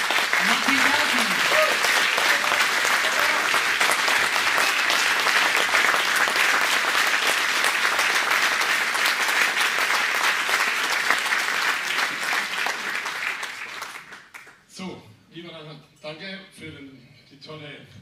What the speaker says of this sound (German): einen großen Applaus von unserer Kapelle und von Ihnen, liebe Zuschauer